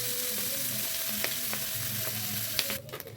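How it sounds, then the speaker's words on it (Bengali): Broccoli, spring onion and leftover prawns sauté in a hot pan with a dense, continuous sizzle and a few light utensil taps, close and steady before the sound drops off abruptly at the end. "ব্রোকলি আর স্প্রিং অনিয়ন দিয়ে একটুখানি সতে করে নেব।"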